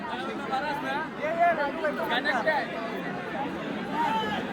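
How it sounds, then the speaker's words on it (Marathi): Dense crowd chatter fills the Hinglaj Devi Gondhal festival at Versova Koliwada, many overlapping voices forming a steady, close hubbub throughout. "येण्या जाण्यासाठी तर गर्दी आहे"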